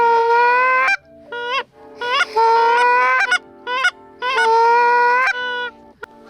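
Geese honk on an early-season river goose hunt, giving loud, close bursts of repeated nasal calls broken by short pauses, with no one speaking.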